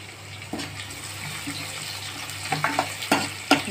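Whole cloves and green cardamom pods fry in hot oil for a chicken korma, a low steady sizzle punctuated by several small pops and clicks toward the end.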